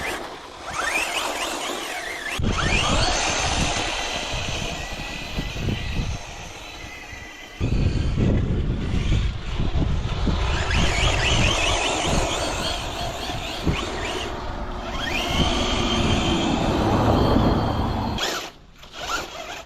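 Rebuilt Traxxas Slash RC truck ripping at full throttle, a loud, continuous high-pitched electric motor whine with gravel and tire roar, surging and easing through several runs before cutting out.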